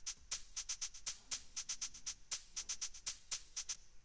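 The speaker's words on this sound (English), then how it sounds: "And these two hi-hats sound like this." Two hi-hats, one panned left and one panned right in a song mix, tick out a crisp, steady rhythmic pattern of bright, closely spaced hits with no voice over them.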